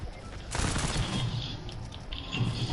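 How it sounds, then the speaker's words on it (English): Mythic launcher fired at a riot shield enemy in a video game, heard as a loud sudden blast followed by sustained rumbling, crackling combat noise. "I just fired the launcher, the mythic launcher at the fucking riot shield dude"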